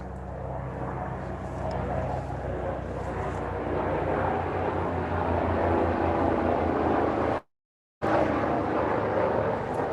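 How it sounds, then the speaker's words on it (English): Starflight ambulance helicopter flying over a home cooking setup, a steady rotor and engine drone that grows gradually louder, broken by a brief dropout before the drone resumes. "we got a little helicopter flying over."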